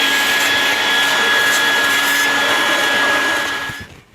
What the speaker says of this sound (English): I just need to vacuum out in here and get rid of all the crappy particles